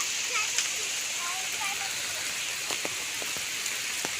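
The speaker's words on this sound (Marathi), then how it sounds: "त्याचा पाऊस जोरदार चालू झाला आहे" Heavy rain falls in a mountain jungle as a steady hiss, with scattered drips and patters close by, and a voice speaks briefly.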